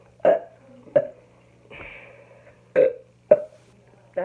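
Loud human burps come in a series of about six short, separate belches with gaps between them during a burping challenge, close to the mic, with no speech.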